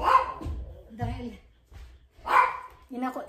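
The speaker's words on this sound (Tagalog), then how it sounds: "Naghiyak ang aming aso." A pet dog kept in its cage gives several sharp barks and high whines in bursts at close range, with pauses between them.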